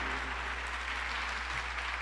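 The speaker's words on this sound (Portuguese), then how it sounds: "Pode aplaudir a atitude dele" Steady applause from a church audience fills the clip, a dense even patter of many hands clapping at moderate loudness with no speech over it.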